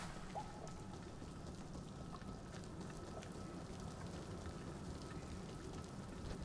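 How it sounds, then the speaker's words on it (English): Steady rain falls in the video game Don't Starve Together as a faint, even hiss throughout with scattered small drops; no talking. "It's raining down here."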